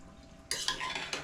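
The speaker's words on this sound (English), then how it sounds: "Give them a quick little stir." Peas being stirred in a cooking pot, a spoon scraping and rattling through them in several quick strokes after a quiet start, close and clear.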